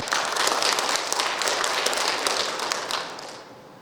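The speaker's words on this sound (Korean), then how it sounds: "큰 박수로 모시겠습니다." Guests at the Nogeun-ri Peace Prize ceremony give a burst of steady applause, a fairly close and even clatter of hands that tapers off toward the end.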